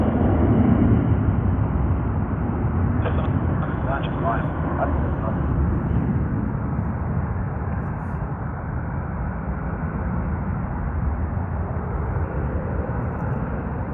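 A Jetstar airliner at Sydney Airport produces a continuous loud, broad engine roar that holds steady throughout, heard from fairly near with some muffled background voices.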